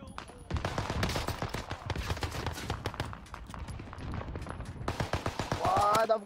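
Rapid, dense bursts of gunfire from many players in a shooter game, crackling almost nonstop and close, mixed with excited talking throughout.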